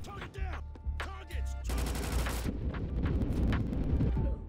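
A gun fires in the Roblox shooter Recoil: after a few scattered shots, a fast, sustained automatic stream of loud, close gunfire runs for about a second, followed by a booming rumble.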